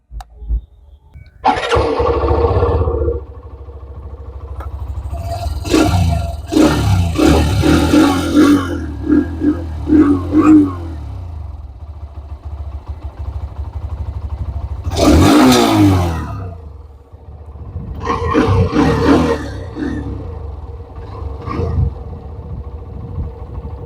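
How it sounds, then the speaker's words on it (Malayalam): Hero Xtreme 125R 125cc motorcycle starting up, then idling with its exhaust note and several throttle blips that rise and fall, heard close and loud with pauses between revs. "ഞാൻ ജസ്റ്റ് ഒന്ന് വണ്ടി സ്റ്റാർട്ട് ചെയ്ത് എക്സോസ്റ്റ് നോട്ട് കേൾപ്പിച്ചു തരാം"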